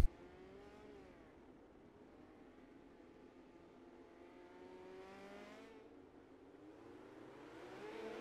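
Midget race cars run laps at the Chili Bowl during an FBN Midget Series pre-season race, their high-revving engines blending into a continuous whining roar with rising and falling pitch.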